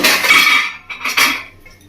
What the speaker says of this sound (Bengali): আমি ঢাকা দিয়ে দিচ্ছি।